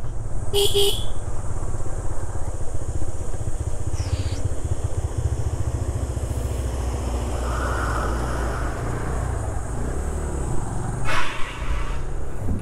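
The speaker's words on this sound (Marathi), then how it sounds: "ओ गाडी येते." Another vehicle passing on a forest road during a motorcycle ride from Konkan toward Mumbai, a brief horn toot at the start and engine noise swelling under the bike's steady wind and motor drone, with another short honk near the end.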